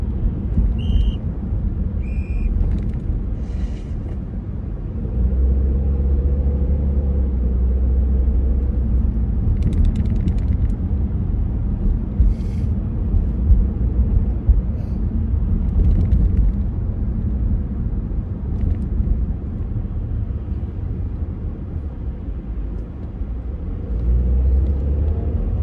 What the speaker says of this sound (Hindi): बहुत ही ज्यादा स्लोली स्लोली गाड़ी मूव कर रही है